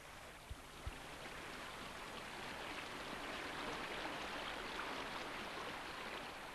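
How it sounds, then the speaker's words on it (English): A stream runs faster past a ford beside a bridge, making a faint, continuous, even rushing hiss with two tiny taps near the beginning. "the water falls away down there"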